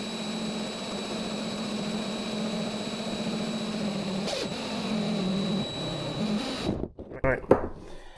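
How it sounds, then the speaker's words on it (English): A power drill bores a hole through a Hobie kayak hull for a fishfinder install, a steady droning whir that runs evenly for several seconds before stopping, followed by brief clatter and handling noise. "So now that I got that hole drilled"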